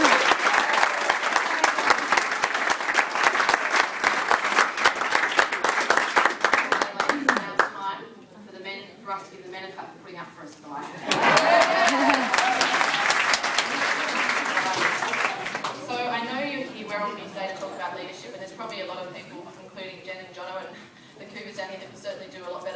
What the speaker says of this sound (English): give all the women in the room a round of applause